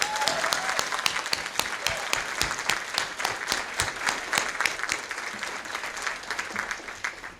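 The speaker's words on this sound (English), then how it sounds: "One more round of applause for Sherrill." Audience applause for Sherill Roland at a visiting artist lecture at FTCC, a dense, steady clapping from a room full of people that carries evenly for several seconds.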